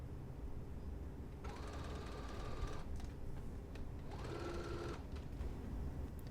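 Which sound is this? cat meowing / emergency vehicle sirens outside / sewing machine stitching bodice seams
sewing machine stitching bodice seams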